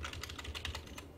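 Rapid, steady typing on a computer keyboard while coding a Dynamics 365 plug-in, with close, crisp key clicks in a continuous run and no voices.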